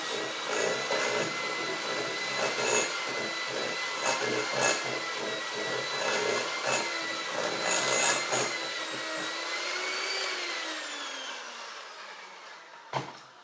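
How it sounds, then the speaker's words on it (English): An electric hand mixer beats eggs for lemon pudding, a steady whining motor with rattling beaters running continuously, then slowing and winding down before a final clack. "with the mixer, turn on your switch and we're going to beat the eggs into"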